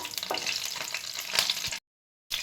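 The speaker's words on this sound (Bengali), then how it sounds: "এবার আমি কালো জিরে একটু ফোড়ন দিয়ে দিলাম" Nigella seeds and green chilli crackling in hot mustard oil, a dense bright sizzle with small pops and stirring scrapes, close, cutting briefly to silence near the end.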